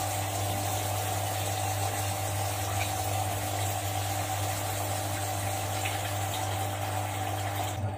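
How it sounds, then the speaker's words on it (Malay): Dyed blue water pours from a filter out through a pipe, a steady continuous rush with a low pump-like hum underneath, close and even throughout with no talking. "Okey, tengok sekali Kak Iba dah keluarkan air ni melalui pipe ni."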